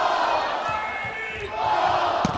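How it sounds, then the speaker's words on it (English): Crowd cheering and roaring at a women's college volleyball match in the Food City Center, a loud sustained wash of voices filling the arena, with a brief thump near the end. "Crowd here at the Food City Center getting into it."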